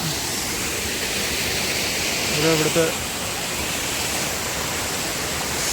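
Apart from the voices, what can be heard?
Kollamkolli waterfall in Nilambur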